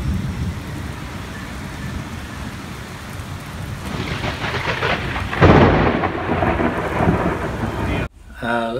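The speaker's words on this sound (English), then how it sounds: "We've put it through a Brisbane thunderstorm." A Brisbane thunderstorm brings steady heavy rain, with rolling thunder that builds and cracks loudly partway through. A brief nearby clatter comes near the end.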